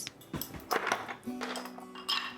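Ice cubes drop into a container for chilled pie crust liquid, producing several bright clinks and taps in quick irregular succession, fairly close.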